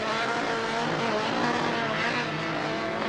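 A Mini rallycross car races at a quarry circuit, a dense, loud engine roar with tire noise that holds steady throughout.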